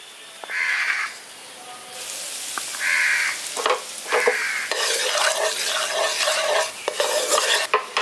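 Turmeric and chili powder frying in oil for a brinjal dish, with repeated spoon-stirring scrapes and bursts of sizzle, close, while a crow caws several times in the background.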